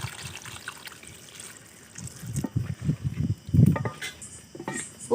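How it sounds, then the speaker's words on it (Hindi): Water is poured from a glass into a pan of chicken curry in uneven splashing gurgles that grow louder midway, over a soft background hiss. "पानी ऐड करेंगे 1 गिलास।"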